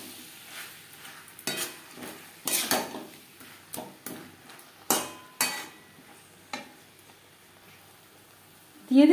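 Taro (mankochu) frying in a pan while being stirred: a soft sizzle runs beneath irregular loud scrapes and knocks of a utensil against the pan, with a sharp clatter at the end.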